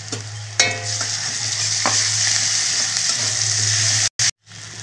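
Ginger garlic paste hits frying onions in oil with a sharp burst, then a steady bright sizzle and stirring scrapes, with a low hum beneath.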